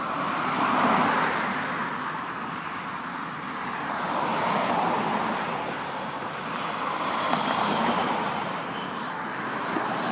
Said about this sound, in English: Goddamn traffic.